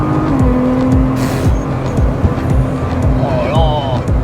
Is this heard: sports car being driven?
yes